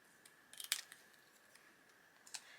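Scissors snip through a paper junk journal page in a few quick, faint cuts, a short cluster near the start and one more toward the end, in a quiet indoor room.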